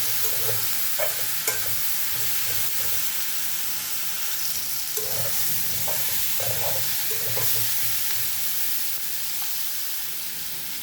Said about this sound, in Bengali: বেগুনগুলো পেঁয়াজের সাথে ভেজে নিব।